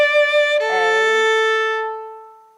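A bowed string instrument holds a long note on A after a brief higher note. The tone is clear and sustained and fades out smoothly at the end of the bow stroke.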